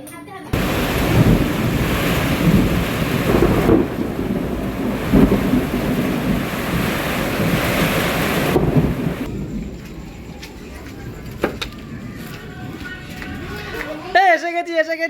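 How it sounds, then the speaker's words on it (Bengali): Heavy rain pours down during a thunderstorm, a loud and steady roar that lasts for several seconds. It then drops to a quieter patter broken by scattered sharp sounds and a brief voice near the end. "ও সেই বৃষ্টি হচ্ছে"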